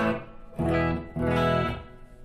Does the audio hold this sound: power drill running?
no